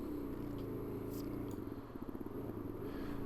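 A Suzuki DR-Z400 motorcycle idles steadily at close range on a back logging road in the woods, a low continuous engine rumble with a faint clatter.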